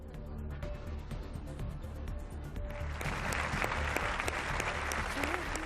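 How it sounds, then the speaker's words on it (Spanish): A crowd gives a state tribute applause in remembrance of COVID victims, steady clapping from many people that swells and grows fuller partway through, with some voices mixed in. "Un aplauso para el recuerdo."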